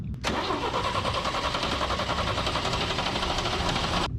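A 1974 International Harvester Scout engine cranks on the starter in one continuous, loud, close run of rapid rhythmic churning that stops abruptly after about four seconds, with no voices.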